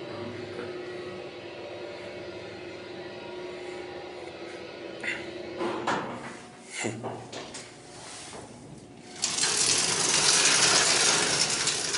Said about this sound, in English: Oh yes, and it's a vertical door.